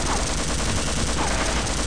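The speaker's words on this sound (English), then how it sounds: "that is a ceiling turret" Rapid automatic gunfire from a ceiling turret in the Office Complex chapter of Half-Life, a dense unbroken burst that stays loud and close for the whole stretch with no voices.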